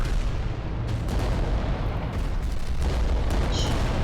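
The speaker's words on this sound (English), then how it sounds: "Launchers shooting all over the place" Launchers fire in the video game Adeptus Titanicus: Dominus, a dense rumbling barrage of booms and blasts that stays loud and continuous, with a faint high tone near the end.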